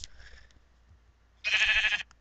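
A sheep in the Minecraft video game gives two short synthetic bleats, a brief one at the start and a louder, longer one near the end, with quiet background between.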